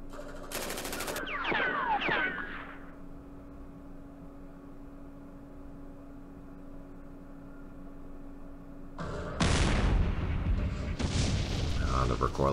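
Recoilless rifle fire in the wargame Campaign Series Middle East: loud broadband blasts open and close the stretch, the final salvo long and heavy, with a low steady hum between them.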